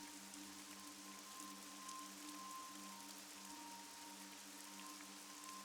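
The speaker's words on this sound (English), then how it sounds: "raining. Exactly what we needed." Soft, steady rain falls in the video game AI: The Somnium Files, a continuous faint patter under a low hum and sustained tone, with no voices.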